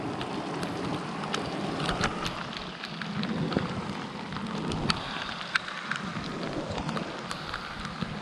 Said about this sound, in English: rain is here, eh?